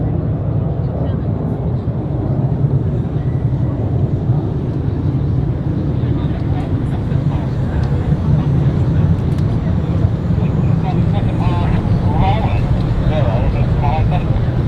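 RAF Red Arrows display jets fly an air show at the Canadian International Air Show, joining into the Diamond Nine formation: a loud, steady broadband jet roar fills the whole stretch, with a voice faintly underneath.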